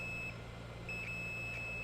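A multimeter gives a few short, high continuity beeps at irregular moments over a steady low hum, faint and close by, while testing a water-damaged iPhone 6S board.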